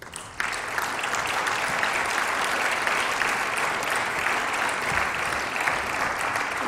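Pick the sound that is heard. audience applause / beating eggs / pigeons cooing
audience applause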